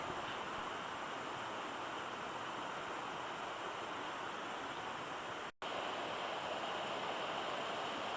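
Rushing creek water near Whitehorse Falls in Whitehorse Wildlands Park, a continuous broad hiss of flowing water, steady and fairly close, broken by one brief dropout, with no voices.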